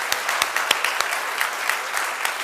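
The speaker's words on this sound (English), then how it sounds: "Let's give a big round of applause, guys" An audience gives a burst of applause, with steady close clapping and some sharper individual claps standing out in an even rhythm.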